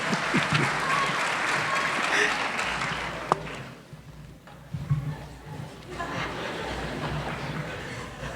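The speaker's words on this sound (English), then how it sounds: "Give another round of applause for these great children." A crowd at a Veterans Day ceremony claps steadily for children on stage, fading briefly before swelling again, with a few voices mixed in.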